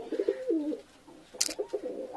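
Pigeons coo nearby in low, throaty bursts, with a short rustle or flutter in the middle between calls.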